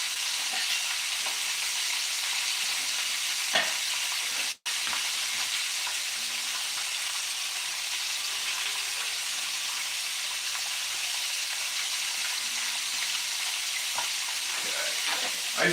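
Butter sizzles steadily in a hot pan while French toast is being made, a continuous close frying hiss with a brief interruption partway through, no voices.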